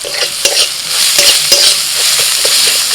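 Turmeric, red chilli powder, black pepper and garam masala powders fry in a pan for egg cutlets, a loud, close, continuous sizzle broken by sharp spatula scrapes and clacks.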